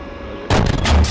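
A tank cannon in a military video game booms once, loud and close, after half a second of quiet, with a rumbling tail.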